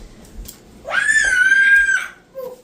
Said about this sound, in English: she screams like that on a regular basis